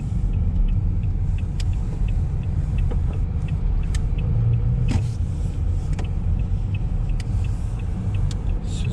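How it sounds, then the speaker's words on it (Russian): A car rolls into a parking lot with a constant low engine and tyre rumble from inside the cabin, steady throughout with a few faint clicks and no talking. "Заруливаем на стояночку."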